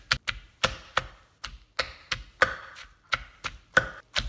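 Pestle pounding ingredients in a mortar for Thai papaya salad, a dozen sharp, close wooden thuds in an uneven rhythm, each ringing briefly, with no talk.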